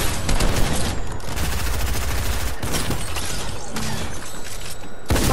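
Sustained, loud automatic gunfire in a shooter video game, dense rapid bursts rattling almost without pause, with a few heavier impacts and brief gaps near the end.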